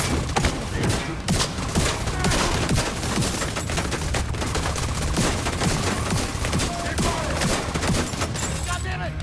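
Sustained minigun fire in the video game The Division, a dense, continuous roar of rapid shots running loud and unbroken for the whole stretch, with a voice briefly heard beneath it.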